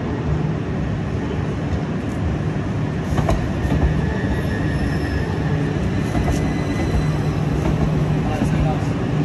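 A train in Brighton rumbles steadily throughout, with a continuous low roar and faint rail clatter, fairly loud and close, as heard from near or aboard the carriages.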